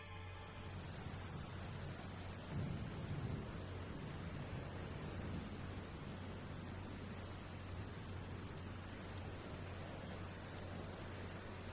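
Torrential rain in the video game Root Film, a dense, even wash of downpour with a low rumble swelling briefly near the third second, steady and quiet throughout.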